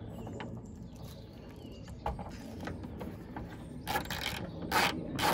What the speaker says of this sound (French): une clé de 13 et on desserre dans un premier temps les vérins